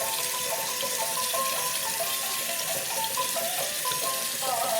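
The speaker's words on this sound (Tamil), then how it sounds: "நல்லா சுற்றி வாஷ் பண்ணு." Water runs steadily from a kitchen tap over an apple being washed, a continuous close splashing stream with no talk.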